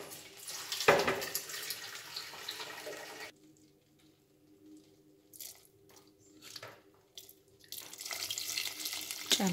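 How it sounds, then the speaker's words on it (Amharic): Tap water gushes into a cooking pot while cauliflower soup is prepared in a home kitchen, loud at first, then cut off briefly before the flow starts again and fills the pot. "እንደምታዩት ውሃውን ሞላ አድርጓለሁ የበለጠ ማለት ነው።"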